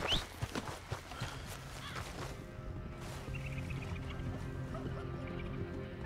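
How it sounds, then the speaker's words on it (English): Horse hooves in the Red Dead Redemption video game, a quick run of close clip-clop steps at the start, then quieter steady background sound. "maybe that's my horse"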